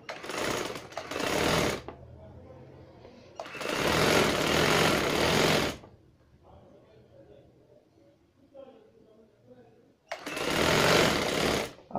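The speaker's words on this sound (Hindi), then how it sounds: "अब ये सिलाई ऑल राउंड चलते हुए मुकम्मल भी करेगी और लास्टिक के ऊपर सिलाई भी लगाएगी" A sewing machine stitches trousers over elastic in three loud bursts of fast, buzzing running, with quieter gaps between where a person talks.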